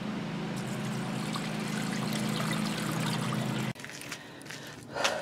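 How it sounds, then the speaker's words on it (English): Beef bouillon poured into a pan beside a chuck roast on a Big Green Egg grill, a steady close splashing pour lasting several seconds before stopping abruptly, followed by faint clinks. "going to pour this bouillon in here"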